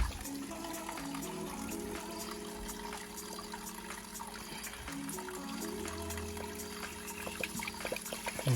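Fresh water pouring steadily into a garden fish pond during a weekly water change, a continuous close rushing splash with low gurgling, running alone without talk.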